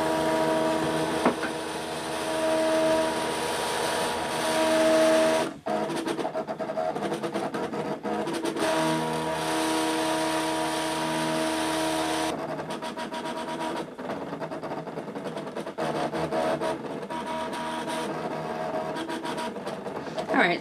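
A Cricut cutting machine working through a printed Halloween page, giving a continuous whirring and buzzing motor drone with shifting tone as the carriage moves, close up and steady for the whole stretch.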